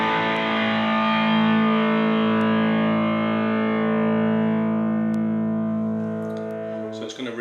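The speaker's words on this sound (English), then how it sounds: "So the guitar, when I just play a power chord, sounds like this." Electric guitar power chord played through an MXR Phase 95 phaser for a nasal, swirling tone, one loud sustained chord ringing out and slowly fading over several seconds, alone.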